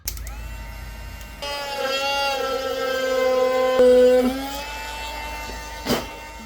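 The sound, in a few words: drilling peg holes in a violin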